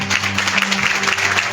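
A kirtan audience gives brief, scattered applause, a short burst of crowd clapping at moderate volume with a low musical hum underneath.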